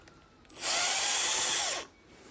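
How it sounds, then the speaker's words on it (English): A power drill spins out stainless steel screws from an umbrella, one loud high whirring burst of just over a second that starts and stops abruptly, close up with no talk. "we're going to remove these stainless steel screws."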